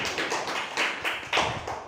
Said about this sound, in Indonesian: Ya, tepuk tangan untuk kelompok C